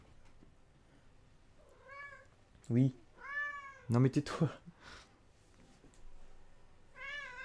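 A house cat meows several times nearby with short, plaintive, rising calls, and a person speaks briefly between them.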